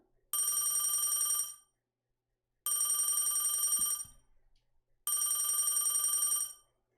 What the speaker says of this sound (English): Your phone ring off the hook with people calling you all the time.